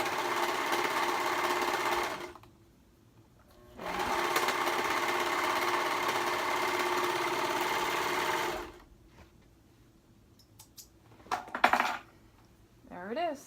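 Domestic sewing machine stitching a hoodie cuff, running in two loud steady bursts separated by a pause, followed by quieter handling noises and small clicks.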